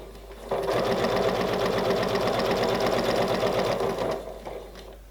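A sewing machine runs steadily for about four seconds, stitching improv curves in quilting fabric, a fast even needle rhythm close up before it slows and stops.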